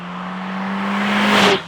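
The four-cylinder engine of a Mercedes A45S drones loudly and rises steadily in pitch as the car closes in, then sweeps past with a sharp whoosh and drops away.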